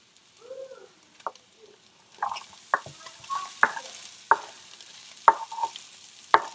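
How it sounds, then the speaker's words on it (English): Turkey bacon and onions sauté in a pan with potatoes. A soft sizzle runs under repeated sharp scrapes of a utensil stirring the food at a steady, unhurried pace. "So I decided to saute the turkey bacon with the onions"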